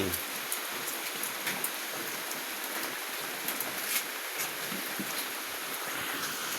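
Steady rain falling, a dense hiss with scattered drops tapping on a surface, continuous and close throughout.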